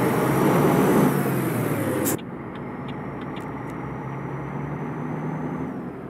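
Volvo F12 intercooler truck hauling a Liebherr LB28 drilling rig in Euro Truck Simulator 2, a steady engine drone that drops abruptly to a quieter hum partway through, with faint high clicks over it.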